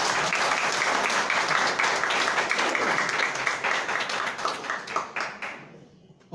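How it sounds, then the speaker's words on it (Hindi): An audience gives strong, dense applause for new guests at an indoor gathering, sustained for several seconds before breaking into scattered individual claps and fading out. "हाँ, तो मैं एक बार जोरदार ताली चाहूंगा नए मेहमान को।"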